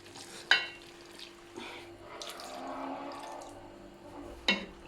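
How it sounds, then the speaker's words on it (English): Water is poured into a pot of creamy gravy on the stove, a soft splashing and stirring wash with two sharp clinks of metal against the pot, close and moderately quiet. "let me add water"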